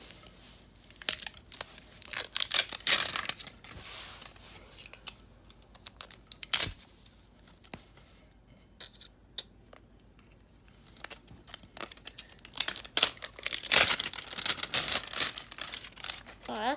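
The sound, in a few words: unwrapping the packaging of a new Rawlings bat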